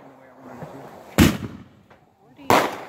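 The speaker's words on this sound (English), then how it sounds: "Well, I'm watching fireworks." Fireworks go off with two loud, sharp bangs about a second apart, each followed by a brief crackling tail, over quiet voices in between.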